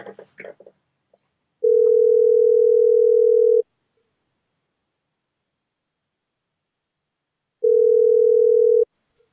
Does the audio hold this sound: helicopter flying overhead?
no